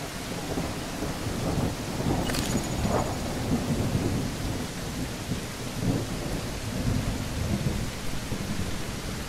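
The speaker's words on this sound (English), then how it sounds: "Oh wow, you can actually see the raindrops now, but like really see them." Steady, dense rainfall in the video game The Isle Evrima, with a rolling thunder rumble near the start and fainter thunder later, all continuous and loud with no talk.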